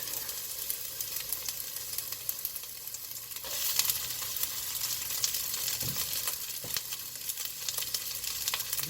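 Kielbasa cabbage soup cooks in a pot over medium heat, giving a steady, soft bubbling sizzle with occasional light clinks, quiet and continuous.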